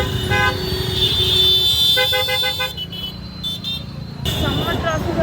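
Busy road traffic near a beach, with several short car horn toots over a dense rumble of engines. Voices mix in with the horns.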